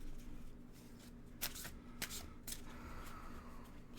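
Oracle cards shuffled by hand in a quiet room, a few soft crisp riffles and taps at close range, faint overall with a low hum beneath.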